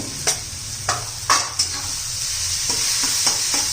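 An onion and tomato masala with turmeric, red chili powder and coriander powder sautéing in a pan for zunka: a steady close sizzle with several sharp spoon scrapes and stirring knocks, no voices.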